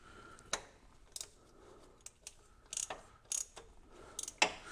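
Torque wrench tightening a spark plug to 30 newton meters on cylinder six of a 986 Porsche Boxster, with a series of sharp ratcheting clicks and small mechanical clacks, close and fairly quiet, with no talking.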